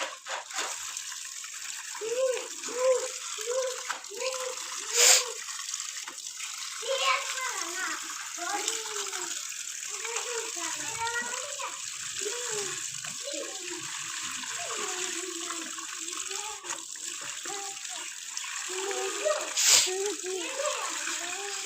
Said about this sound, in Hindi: कपड़े जल्दी जल्दी वॉश कर रही थी